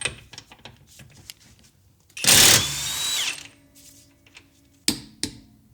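A cordless Hercules Ultra Torque impact wrench, first generation, on a 5 Ah battery in mode 3, hammering on an axle nut torqued to 150 foot-pounds: one loud, harsh burst lasting about a second, then a brief whine and two short later hits.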